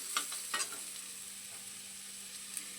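Sabudana pulao ingredients stirred in a pan, soft scraping strokes with a couple of sharper spoon taps over a quiet sizzle, near and fairly faint, no voices.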